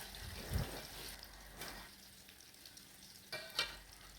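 Tofu fries in a pan for a home-cooked lunch, a quiet, soft sizzle with a few brief clatters and stirring knocks, no talk.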